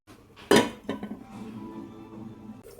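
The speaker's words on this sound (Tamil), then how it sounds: "அப்படியே இதை ஒரு கிளறி விட்டுட்டு மூடி போட்டு சிம்மில் வச்சு" A spoon stirs crab gravy in a clay pot and a lid is set on top, giving one loud, close clatter followed by a few lighter clinks and a soft simmering rustle.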